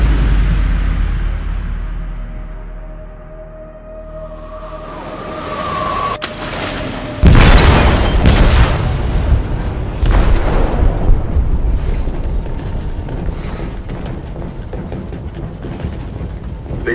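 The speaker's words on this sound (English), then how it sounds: "They detonated an explosive in the hold." A heavy explosive blast goes off inside a ship's hold, opening with a low rumbling build before a loud, sudden boom. Sustained roaring debris and rumble follow, then a long, churning aftermath.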